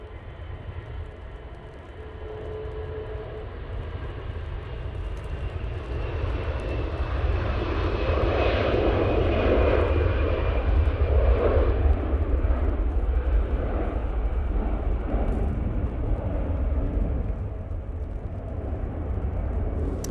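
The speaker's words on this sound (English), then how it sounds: "Right, let's get down on that Qatar. There you go, 787-9 Dreamliner." Qatar Airways Boeing 787-9 Dreamliner landing at Manchester Airport: a long, steady jet roar that swells to its loudest midway as it passes close, then eases slightly, with no talk.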